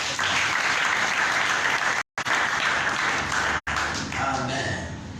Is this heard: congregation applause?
yes